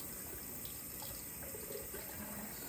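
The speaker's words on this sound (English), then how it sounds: "And then you fill the basin with water" Warm water running from a sink tap to fill a basin for a modified bed bath, a steady broadband rush heard close and alone without talk.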